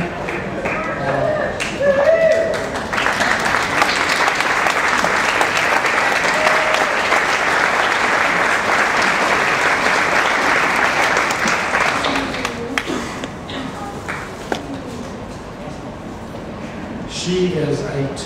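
Sustained audience applause fills a large hall at the American Cancer Society Crystal Ball gala, a dense wash of many hands clapping that builds, holds steadily for several seconds, then thins out with scattered claps and a little talk underneath.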